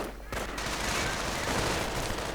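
Gunfire crackles in a war strategy video game as grenadiers come under attack, a dense, continuous rattle of shots filling the scene at steady loudness with a voice talking over it.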